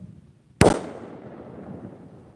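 A firework mortar shell bursts during an end-of-2019 New Year's celebration: one sharp, loud bang followed by a rumbling decay that fades over the next second or two.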